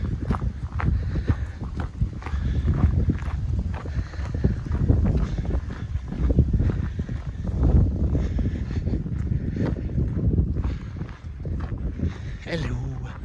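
Wind buffeting a microphone on a woodland footpath, heavy low rumbling gusts rising and falling throughout, with someone talking over the roar.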